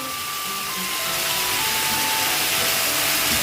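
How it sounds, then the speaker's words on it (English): Chicken sizzles in a pan with soy sauce, white vinegar, green chilli paste and tomato garlic sauce, giving a steady, close, hissing fry that builds slightly and never pauses. "After frying 6-7 minutes, chicken is ready."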